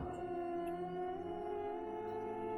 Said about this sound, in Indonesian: Malam yang kemudian bermandikan bulan purnama bersenandungkan lolongan anjing yang entah dari mana asalnya